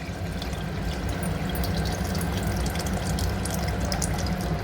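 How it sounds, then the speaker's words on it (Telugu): Tamarind juice pours into a pot of cooked drumsticks and peanuts for a Telangana pulusu, giving a steady, close, continuous liquid rush without pauses. "ఇప్పుడు అందులో చింతపండు రసం పోసుకోవాలండి"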